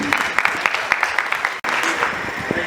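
A crowd at an award ceremony honouring Sonu Nigam claps loudly and steadily, dense applause filling the hall with a momentary cut partway through.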